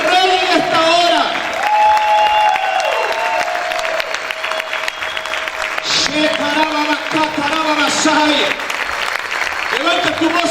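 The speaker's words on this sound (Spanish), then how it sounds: "Aplaude, dale esa alabanza al Rey en esta hora." A church congregation claps steadily and loudly throughout, with a preacher's voice calling out over the dense, continuous applause.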